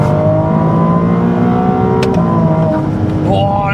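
Ferrari 296 with an 830 hp engine revving hard on the Autobahn. The roar is loud, close and continuous, with a sharp burst near the middle that fits a blow-off valve release before the revs climb again.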